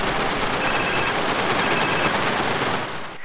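A telephone rings twice during a GTA San Andreas cutscene, each ring a short electronic trill that sits over a dense, loud wash of background noise that fades at the end.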